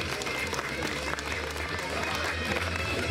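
Broad, steady applause from a crowd at an awards ceremony for the winners of the Zvolenská Grgalica race, a continuous dense wash of clapping with no clear breaks.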